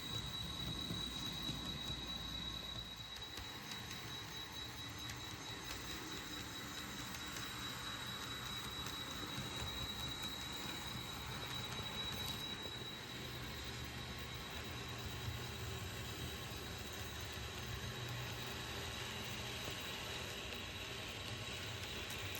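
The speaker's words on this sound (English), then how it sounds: "Train number 8 will make one trip around the layout on the outer loop mainline track." A small model train runs continuously around the outer loop mainline track of a layout, a steady whirring rumble with a faint high whine, no voices.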